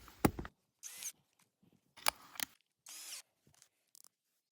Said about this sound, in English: let's drill some holes into pieces of metal